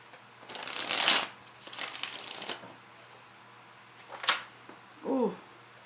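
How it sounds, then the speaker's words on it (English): Tarot cards handled during a reading: a couple of quick shuffling riffles, then a crisp snap as a card flips, nearby and alone, ending with a brief murmur of voice. "Another card flipped up."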